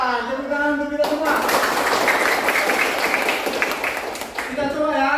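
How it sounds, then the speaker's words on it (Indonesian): Junior high school students clap together in a burst of steady, dense applause lasting a few seconds, framed by a voice talking before and after. "Tepuk tangan untuk kita semua."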